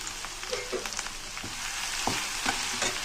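Crushed garlic hits hot oil in a mustard seed, urad dal and dried red chilli tempering, giving a steady close sizzle with a few sharp crackles and pops.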